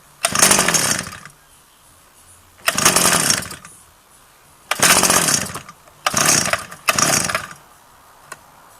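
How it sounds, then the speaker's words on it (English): A carbureted Mitsubishi engine fires up in five loud bursts of roughly a second each, catching briefly and sputtering out between gaps of near silence, with no talk over it. "It's running better than it was earlier."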